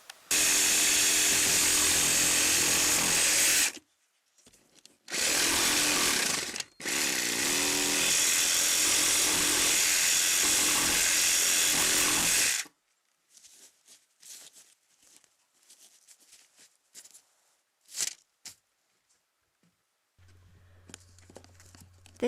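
Jigsaw cutting a bathroom fan hole through the wall of a tiny house: three loud sustained buzzing runs with short pauses, followed by quieter knocks, clatter and a low hum.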